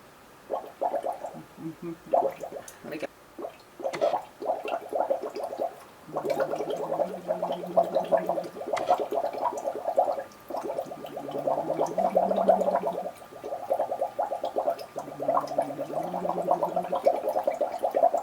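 Air blown through a straw into water, producing bursts of bubbling and gurgling with short pauses between, close and fairly quiet.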